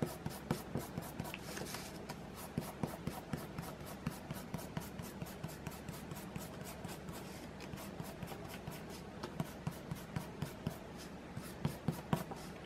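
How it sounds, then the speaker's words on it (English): Pencil eraser rubbing across paper to remove guidelines, a rapid, steady series of scratchy back-and-forth strokes, close and fairly quiet, continuing without pause and with no talk. "I'm going to erase all those guidelines."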